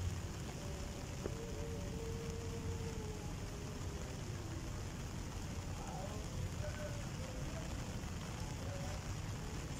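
Steady rain falls outdoors at Haw Par Villa, a dense continuous hiss of drops on surfaces that holds an even level throughout, with faint voices briefly in the background.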